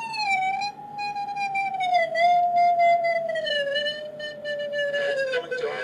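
A whistling electronic tone converted from a vibrating carbon nanotube glides and steps lower as individual electrons are added, steady and prominent, ending in a brief noisy burst.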